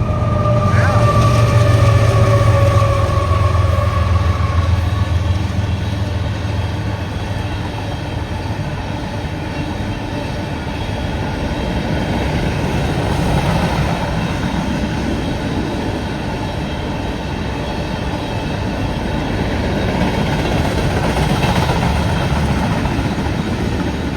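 Train rolls past: a low diesel rumble and rising rail noise build into a long, sustained roar that swells and fades over about twenty seconds.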